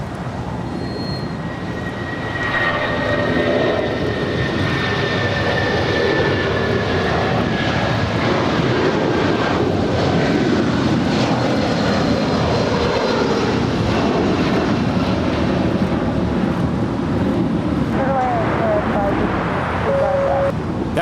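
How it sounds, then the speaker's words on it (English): A United Airlines Boeing 757-200 in New York/New Jersey livery departs LAX, its jet engines building into a loud, sustained broadband roar that holds steady for the whole stretch, with a faint whine riding above. "That is United 792 departing to Newark Liberty. It's a 757-200"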